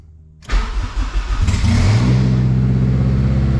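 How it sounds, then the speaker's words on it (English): A turbocharged Honda K20 engine in an EK Civic cranks and fires up, catching with a loud, close roar that settles into a steady, rough idle with an exhaust leak at the manifold. "I'm gonna go ahead and fire this thing up real quick. See what it sounds like."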